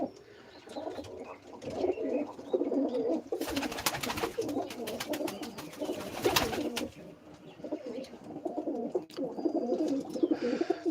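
Pigeons coo softly in repeated low, throaty phrases, with a couple of brief fluttering bursts in between; no voices.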